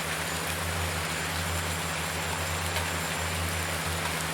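Steady rain in Farming Simulator 19, a constant dense hiss with a low droning hum underneath, even and unbroken throughout.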